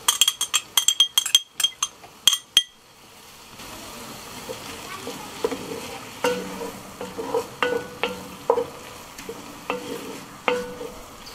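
Garlic sizzling in a pot as a spoon stirs it, starting with a rapid series of sharp metallic clinks, then a steady hiss of frying with scattered scrapes and taps.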